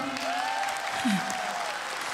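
Audience applause rolls steadily, moderately loud, with a brief voice and faint tones rising above the clapping.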